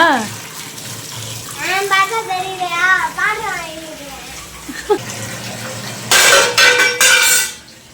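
Tap water runs into a kitchen sink while a child washes dishes, a steady trickle under a voice and an adult's, ending with a louder gush of splashing water.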